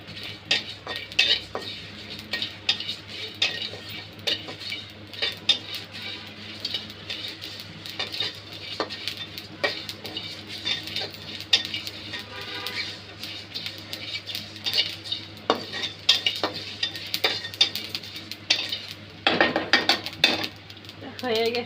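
Five-spice seeds and dried chillies fried in a pan on a stove for a pickle, heard as steady scraping and clinking of a stirring spoon with faint sizzling throughout.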